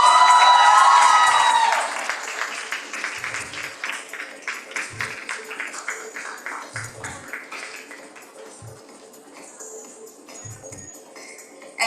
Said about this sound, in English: A big round of applause for Jia, everybody.